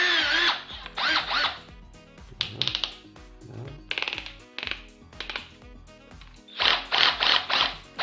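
A TECCPO TDHD01P cordless drill-driver whirs in short bursts as it screws and unscrews, each run rising and stopping with clicks and rattles between, close up, with a few faint voice-like sounds.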